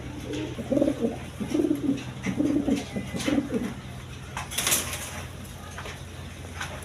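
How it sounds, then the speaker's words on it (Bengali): A pair of European Lahori pigeons coo in repeated low throaty bursts, close by, with a brief sharper noise partway through and faint background hum. "এখানে এক পেয়ার ইউরোপিয়ান লাহোরি কবুতর আছে"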